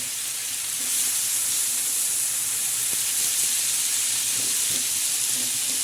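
Fenugreek leaves with onion, tomato and green chillies cooking in a pan: a constant, fairly quiet hissing sizzle with a few faint stirring touches and no voices.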